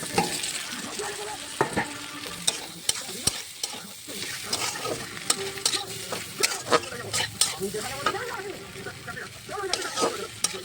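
Soybean curry with fried potatoes being stirred and fried in a pan, with a steady sizzle broken by frequent sharp scrapes and clinks of a spatula against the pan, fairly close, and no talking.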